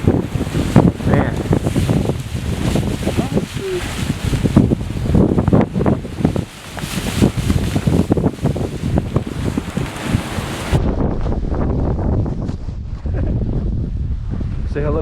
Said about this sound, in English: It is windy, boys.